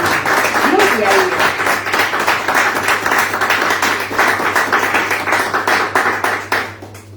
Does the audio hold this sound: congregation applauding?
yes